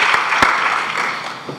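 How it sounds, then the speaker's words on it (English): An audience applauds presenters at the close of a severe-weather panel session, a steady wash of clapping at moderate distance with a few sharper individual claps standing out. "I'd like to ask for a final round of applause for our presenters from Panel 1."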